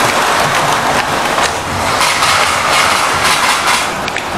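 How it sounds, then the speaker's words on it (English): A model railway train runs around a layout, giving a steady, continuous rolling rumble and clatter with no talking. "I'm going to leave you guys with this train running around for you."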